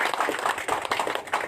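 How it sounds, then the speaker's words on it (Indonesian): Short burst of clapping from an audience at a formal opening ceremony for a competency training event, a brisk irregular patter of hands with a faint voice underneath. "Kita beri tepuk tangan."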